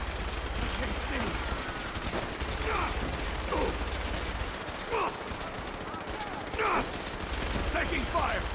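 Gunfire in Fallout 4: bursts of shots crackle through a busy battle mix, with synthetic robotic voice lines heard over the fighting.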